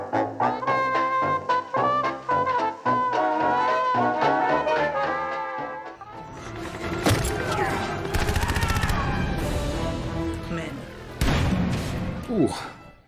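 Gunfire from an action film erupts with the Expendables crew in battle: after a stretch of music and voices, dense bursts of loud automatic fire and explosions crash in repeatedly, mixed with score and shouting.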